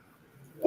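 A dog gives a single short bark right at the end after near silence, loud and close.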